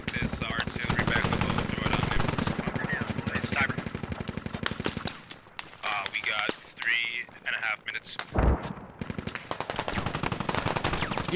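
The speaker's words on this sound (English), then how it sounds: "you gotta use command assets to get them off the mortars" Machine-gun and rifle fire crackle through a military video game battle with mortars in play, bursts coming fast and steady for several seconds, then thinning out amid gaps and a sharp blast, with voices talking over it.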